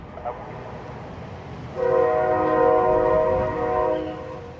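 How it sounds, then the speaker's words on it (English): A locomotive horn sounds in Jacksonville's Springfield rail district, one long steady chord starting partway in and holding for over two seconds before fading, loud over a rumbling background. "Please give me some bell and whistle over the bridge"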